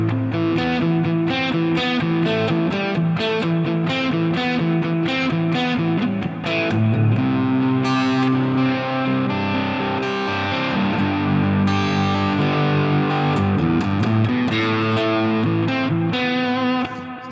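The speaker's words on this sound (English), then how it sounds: "that's just a preset version of a Plexi amplifier with a little bit of reverb, a little bit of delay on it" Distorted electric guitar played through a MOOER GE300 Lite Plexi amp preset with light reverb and delay, a steady run of chords and riffs ringing out loud and close, with no voice.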